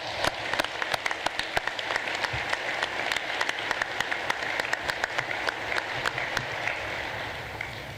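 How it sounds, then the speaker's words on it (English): A commencement audience gives a sustained round of applause for the graduating class of 2020, dense clapping from a large crowd filling the whole stretch at steady volume. "I think we owe them all a round of applause"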